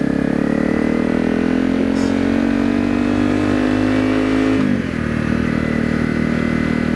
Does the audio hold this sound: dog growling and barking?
no